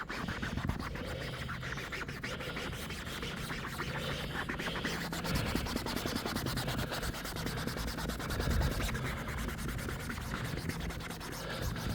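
Aircat 335 air tool scrubbing and cleaning a stained surface, a continuous close abrasive scratching and rubbing with steady loudness and slight surges, no voices.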